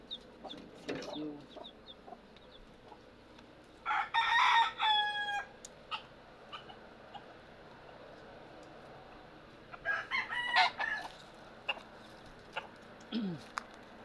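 Backyard chickens in a rural countryside yard: a rooster crows loudly twice, with hens clucking and soft chick peeps scattered through a steady ambient background.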